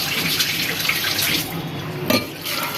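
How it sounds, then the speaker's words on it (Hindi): Water pours into a pot of soaked chickpeas in a steady close splashing stream that briefly surges partway through. "पानी डाल के, नमक डाल के"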